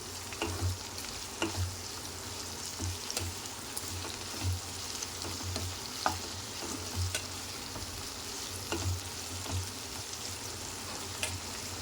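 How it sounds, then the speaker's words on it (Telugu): Ginger garlic paste fries in a pan for okra (bendakaya) pulusu, with a soft, continuous sizzle and occasional light taps of stirring over a low hum. The sound is quiet and close, with no voices. "ఒక స్పూను అల్లం వెల్లుల్లి పేస్ట్ వేసుకుందాం చూడండి అల్లం వెల్లుల్లి పేస్ట్ అవి కొంచెం పచ్చివాసన పోయే వరకు వేయించుకోవాలండి"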